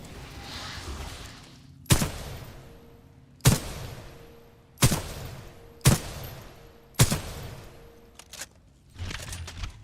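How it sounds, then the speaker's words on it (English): Gunfire in the video game Titanfall 2, five evenly spaced, punchy single shots with short decaying tails, loud and close, with a faint burst near the end and almost no talk. "How's the gunshots? Are they loud?"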